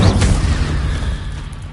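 Magic spell blasts from the video game Hogwarts Legacy: a loud booming impact at the start that rumbles and fades over a second or so, with no voices over it.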